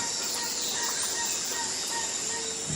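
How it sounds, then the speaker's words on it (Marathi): Birds sing and chirp faintly in the morning around a rural farmhouse, a soft steady chorus with insect hum in the background and no voices. "एकदम शांतता आणि पक्ष्यांचा आवाज."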